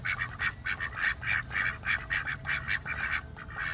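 Several pet ducks quack repeatedly in a steady, busy chorus of short nasal calls, fairly close and fairly loud, with no talking over them.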